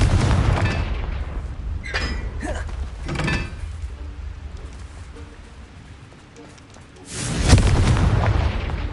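Confringo explosion spells go off in Hogwarts Legacy, each a deep, heavy boom. Two blasts come close together early on, and a louder one lands near the end against a rumbling background.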